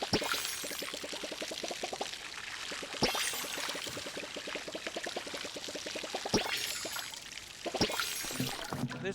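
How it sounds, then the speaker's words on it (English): A watering can is filled with water in the video game Palia: a pouring, trickling wash plays alongside repeated rapid pulsing tones and a few sharp bursts, all fairly steady and close. "we're going to fill up the watering can and put it away"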